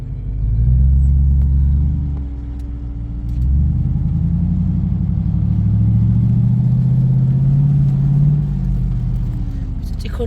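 An off-road jeep climbing toward Oboli rock gives a loud, low engine rumble that swells as it strains uphill, steady and close, with people talking over it.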